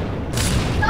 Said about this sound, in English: I just hear just explosion all around.